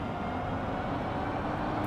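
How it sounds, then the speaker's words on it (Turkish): A steady, even electric whine with a low hum underneath, an electric Chevrolet accelerating smoothly in BeamNG.drive with no engine rumble or gear changes. "zaten sesi de garip. Ceryanlı araba sesi geliyor."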